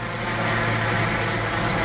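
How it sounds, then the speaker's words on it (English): A steady, loud helicopter drone overhead with a low rotor throb, continuous and unbroken throughout. "I'm sorry guys, I can't talk over the helicopter."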